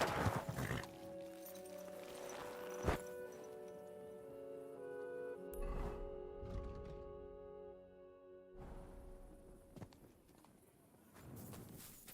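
A horse's hooves clop along in the video game Kingdom Come: Deliverance II, quiet, irregular footfalls set against a sustained ambient musical drone, with no talking.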